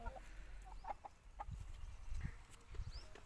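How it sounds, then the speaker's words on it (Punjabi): Backyard hens kept in a small coop cluck in short, scattered bursts, faint and somewhat distant against quiet surroundings. "ਸਾਰੀਆਂ ਸਾਡੀਆਂ ਮੁਰਗੀਆਂ"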